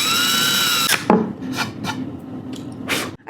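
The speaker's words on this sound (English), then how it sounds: "we're just gonna drill in these pilot holes" A power drill whirs into a wooden table to make pilot holes, a steady motor whine followed by several short grinding bursts as the bit goes in and out, close up and alone.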